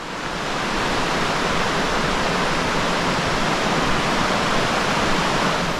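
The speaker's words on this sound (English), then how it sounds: "But I want to go even closer to the waterfall." A steady, loud roar of falling water from a waterfall in the Sweden-Norway border region, broad and constant from start to finish with no voices, heard from close by.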